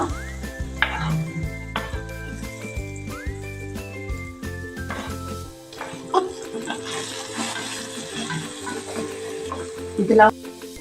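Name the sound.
onion frying in butter and oil for butter egg masala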